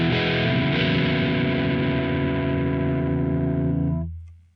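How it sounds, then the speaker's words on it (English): Electric guitar run through an Amp Farm JCM 800 amp simulation with a 4x12 cabinet rings out as one sustained, distorted chord, loud and dense, decaying and cutting off after about four seconds. "we're going to turn these settings here to where it sounds like a real guitar"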